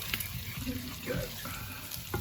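Bacon standing in for pancetta frying in butter in a pan, stirred now and then: a steady, close sizzle with soft scraping and small pops, a brief louder clatter near the end.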